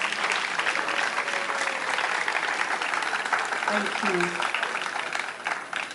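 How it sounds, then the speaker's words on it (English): An audience at a swimming championship opening ceremony at a city pool claps for the national team and coach, steady dense applause filling the space for several seconds, with a brief spoken thanks over it. "let's clap hands for them."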